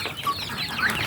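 A white mother hen, a hen of Bangkok descent with chicks from a Pelung rooster, clucks close by on a village farm in a short, steady burst of fowl calls.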